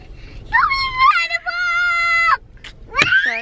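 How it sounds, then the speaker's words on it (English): Children screaming at a country park, with long, high-pitched sustained shrieks, one held for over a second, followed by a shorter shrill cry close by. "Stop screaming, guys."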